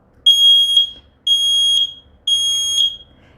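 A Kidde smoke alarm with a 10-year battery sounds under test: three loud, piercing high beeps in an even pattern, each about half a second long, close to the microphone against faint background noise.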